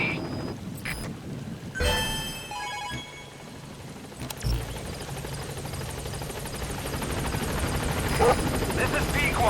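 A support helicopter arriving at a landing zone: a steady, loud rotor drone that builds gradually over the whole span, with a few brief clanks and ringing tones near the start and voices faintly underneath.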